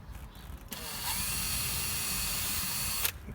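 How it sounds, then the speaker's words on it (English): Power drill boring a small pilot hole into a caravan wall board, a single steady high whine lasting about two seconds after a brief start, close and alone. "What I'm going to be doing now is just putting a pilot in."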